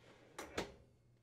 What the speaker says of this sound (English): Confirm that the drawer can slide in and out freely.